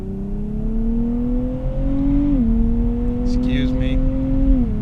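A 2023 Nissan Z twin-turbo engine revving steadily under acceleration, a loud droning tone that climbs, dips at a gear change, then climbs again, heard close from inside the car.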